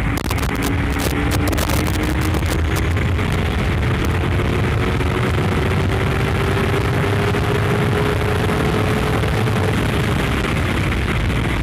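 A Honda CBR250RR sport motorcycle engine roars steadily at high revs in fourth gear, its pitch climbing slowly as it accelerates past 140 km/h, mixed with heavy wind rush.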